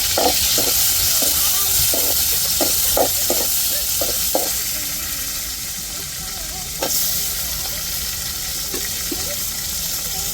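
Chopped tomatoes hit hot oil in the tempering for a fish curry, giving a loud, continuous sizzle close by, punctuated by repeated sharp clanks of a spoon stirring the pan.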